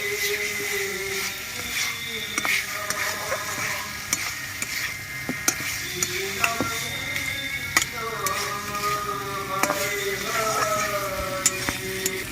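Fried Gobindobhog rice being stirred and fried in a pan, with repeated irregular scraping clicks of a spatula over a low sizzle, while a voice with melodic tones runs underneath.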